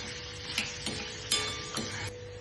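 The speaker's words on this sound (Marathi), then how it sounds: "त्याच्यात 1 वाटी कांदा आपण परतून घेऊया." Chopped onion sizzling in hot oil in a pan, a steady close frying hiss with a few scraping stirs, no voices.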